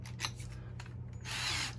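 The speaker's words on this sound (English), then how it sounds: "Now the 1/4 inch drill bit, I'm going to drill all the way through both of these." A power drill fitted with a 1/4 inch bit bores through wood for a bird feeder, giving short faint whirring bursts that rise into a brief louder grinding burst at the end, all fairly quiet.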